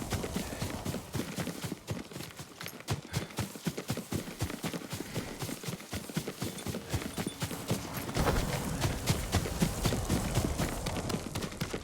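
Horse hooves galloping in Ghost of Tsushima, a dense, fast clatter of hoofbeats that runs continuously and grows slightly louder near the end, with no talk over it.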